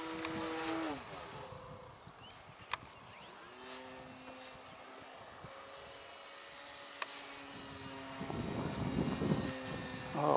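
Droning airplane engine with a steady harmonic hum that shifts in pitch as it passes overhead on an evening in Yarmouth, Nova Scotia, fairly faint, no talking.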